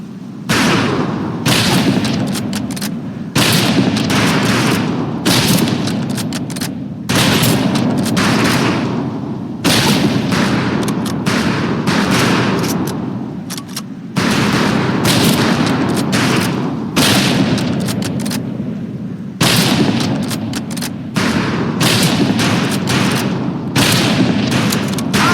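Rifle gunfire at a firing range in Medal of Honor Pacific Assault, a continuous loud volley of overlapping shots with short gaps between bursts and ringing reverberation.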